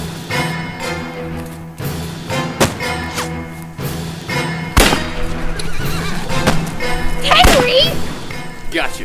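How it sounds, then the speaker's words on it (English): A horse whinnies loudly over a busy scene of hoofbeats, thumps and movement, with people talking throughout. "Come on, get on the horse."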